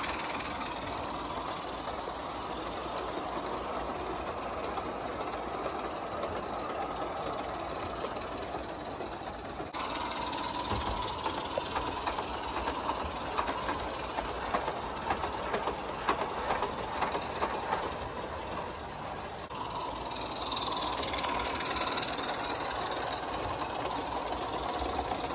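A model live steam train rolls along an elevated backyard track in Victoria, BC, with a continuous rumble and faint rhythmic clicking, growing slightly louder midway as it passes.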